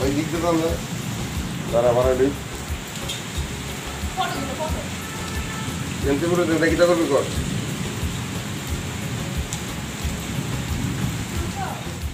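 Steady rain with rumbling thunder at a film shoot staged to look like rainfall. Voices talk intermittently over the constant downpour.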